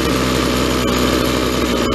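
A weed eater's small two-stroke engine idles steadily after a carburetor adjustment, a continuous close buzzing drone with even vibration and no talk.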